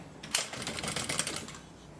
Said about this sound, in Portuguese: E você vai fazer uma costura aqui da largura do elástico que você vai usar.